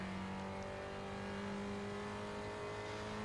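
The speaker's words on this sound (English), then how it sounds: "it's just a nice sounding car in general, but those nice hard downshifts are just mint." Spec Racer Ford race car in iRacing at Oulton Park, its engine droning steadily at high revs with strong harmonic tones, close and loud throughout without a break.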